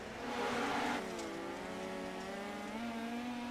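Dirt track race cars at a track with an inside berm, engines buzzing high and nasal, rising then holding a steady drone as they race nearby, with no talk over them.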